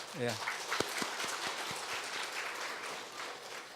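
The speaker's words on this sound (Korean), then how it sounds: "축하의 박수를 한번" During a Sunday church service, a congregation gives congratulatory applause, a sustained spread of clapping in a large room following a brief opening voice, with scattered sharper claps standing out early on.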